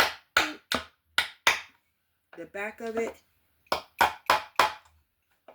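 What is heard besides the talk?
ping hammer tapping holes in cowry shells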